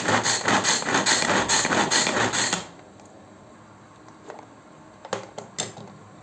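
A hand chopper chopping tomatoes and red peppers rattles quickly in a rapid, rhythmic grinding burst, then stops, leaving a few light clicks and taps.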